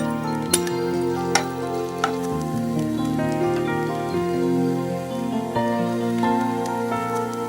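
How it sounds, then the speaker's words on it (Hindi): Finely chopped onions fry in hot ghee, giving a steady sizzle and crackle that carries on beneath background music. "घी गरम करके पहले मैं प्याज फ्राई करूंगी।"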